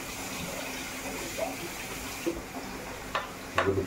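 Cold tap water running steadily for rinsing, a continuous mid-level gush and splash with a few clinks and knocks near the end.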